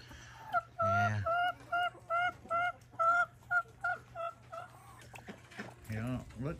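A turkey on a rain-soaked farm gives a series of short, repeated honking calls in an uneven rhythm, fairly close, with a couple of louder bursts near the start and end.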